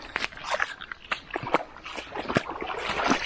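Hiker wading through cold water on a Florida trail, with repeated close splashes and sloshing footsteps in an irregular rhythm over about three seconds, fairly loud and alone.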